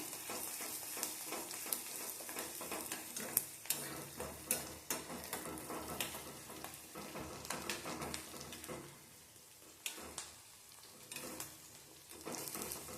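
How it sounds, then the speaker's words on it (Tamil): Shallots and garlic sauté in a pan with a busy, crackling sizzle, punctuated by stirring clicks and scrapes, with no talking. "இப்போ சின்ன வெங்காயம் பூண்டு நல்லா வதங்கிருச்சு."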